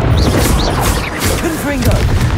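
The Confringo fire-blast spell in the video game Hogwarts Legacy goes off as a loud, booming burst amid crackling combat effects, with a character shouting over it.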